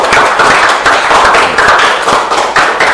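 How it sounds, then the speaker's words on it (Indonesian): A classroom audience applauding a classmate's group presentation, dense and loud clapping from many hands close by, steady and continuous for the full stretch. "kita beri aplaus untuk teman kita"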